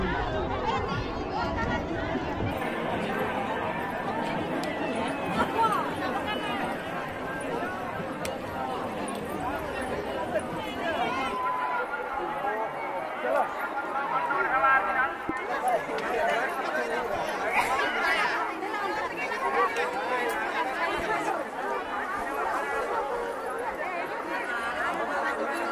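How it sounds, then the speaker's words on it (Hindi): Dense crowd chatter at a crowded Santal village fair in the Jamda block, a steady babble of many voices close around, with one person speaking over it near the start. "बाप रे भीड़ में भीड़"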